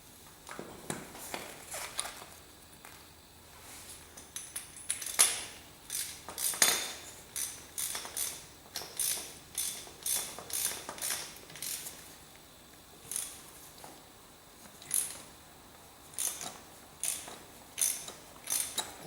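A puller works a small sprocket off a tank transmission, producing close metallic clicks, ratcheting ticks and clinks in uneven bursts with short gaps, mostly quiet between strikes.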